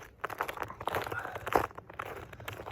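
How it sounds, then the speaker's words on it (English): Footsteps crunching over icy ground outdoors in winter, a close, steady run of crisp crackling steps with no talking. "you can hear the ice crunching under my feet now"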